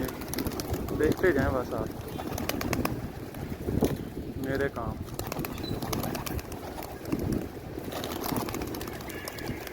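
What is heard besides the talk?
flock of pigeons released and flying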